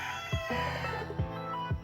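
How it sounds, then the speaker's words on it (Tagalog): Chickens cluck in short, separate bursts against a steady background hum, three quick calls spread over a couple of seconds, near and moderately loud. "Sensya na sa background kasi hapon maingay na naman yung mga manok."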